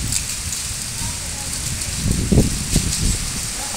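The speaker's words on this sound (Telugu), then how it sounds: "అదేవిధంగా వర్షం కూడా పడుతుంది." Rain falling on a Sunday evening after a spell of very hot weather, a steady broadband hiss throughout with a few heavier low thumps and patters near the end.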